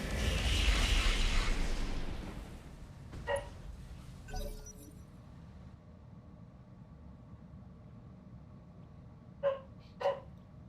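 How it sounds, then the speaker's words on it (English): A dog barking in the background during a Roguetech mech game stream, a few sharp, fairly faint barks at scattered moments over low room noise, the last two close together. "My dog's barking up a storm."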